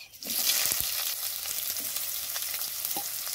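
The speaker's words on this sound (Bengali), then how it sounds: "পেঁয়াজটা লালচে করে ভেজে নেব।" Chopped onions fry in oil with cumin seeds, giving a continuous dense sizzle close by with faint occasional stirring, and no voices.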